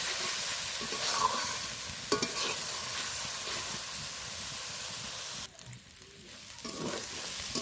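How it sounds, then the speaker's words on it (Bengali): Fish curry masala sautéing in a pan, caught in a fishing-and-cooking setting: steady close sizzle and hiss with repeated scraping stir strokes, a brief quieter dip near the end before the frying swells again. "কষানো হয়ে এসছে আরও একটু কষিয়ে নেব"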